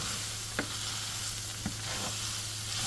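Garlic frying in a pot for one-pot spaghetti and mince beef, a steady broad sizzle with a few soft scrapes of a spoon stirring, close and alone without speech.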